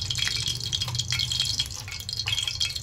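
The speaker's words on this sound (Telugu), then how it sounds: "మా డాబా పైన ఇల్లు లేవు కదండి ఓన్లీ ప్లెయిన్ కదా బాగా నింపుకొని పైనుంచి వాటర్ చుక్కలు పడుతున్నాయి" Rainwater dripping down from a flat terrace roof, an irregular series of close, small splashy drips over a low steady hum.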